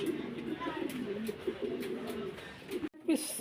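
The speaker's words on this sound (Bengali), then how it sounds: "দেখেন কবুতর" Pigeons coo softly in low, throaty murmurs, close by, with faint background noise.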